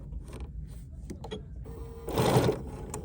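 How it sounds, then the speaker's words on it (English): A Bernina sewing machine fitted with a jean stitch foot stitches a small asterisk, a soft mechanical whir with light ticks, swelling into a louder burst of fast running near the end. "I'm just going to use this to just simply stitch the same little asterisk that we did before"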